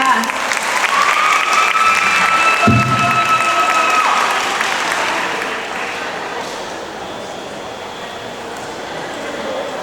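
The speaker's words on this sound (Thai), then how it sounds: "ขอเสียงปรบมือดังๆอีกครั้งครับ" Audience applause at the farewell ceremony for Miss Grand Nong Bua Lamphu 2024, a dense sustained clapping from a large crowd that swells and then slowly fades, with a voice speaking briefly over it.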